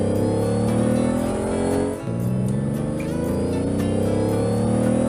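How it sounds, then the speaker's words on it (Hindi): A taxi engine running steadily nearby with a constant hum and whir and a brief dip in the middle, as the car pulls away on a road. "इस तरह टैक्सी वहां से चली।"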